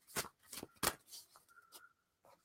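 Tarot cards shuffled by hand in a few short riffling bursts with brief pauses between, close and fairly quiet, no talking.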